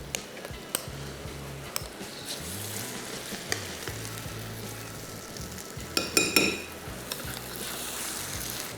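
Dahi bare frying in oil on low heat, dropped into the pan one after another: a continuous gentle sizzle with soft stirring, light clinks of utensils and a brief burst of louder bubbling near the end, no talking.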